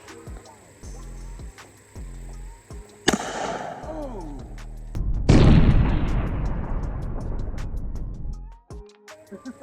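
Shotgun fired with Hornady FXT 225-grain 45 Long Colt hollow points into a 2-liter bottle outdoors: a sharp close blast around three seconds in, then a second, louder boom with a long splashy, ringing tail, over low background hum.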